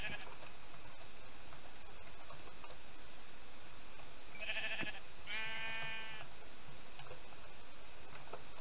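A sheep in a video game bleats twice in quick succession while being killed, short nasal cries over a constant hissing background.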